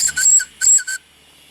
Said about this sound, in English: coming up the top, there's just a whistle.